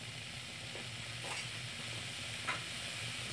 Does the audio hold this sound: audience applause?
no